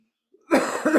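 A single harsh cough, close and loud, breaking out of silence with a short raspy follow-through.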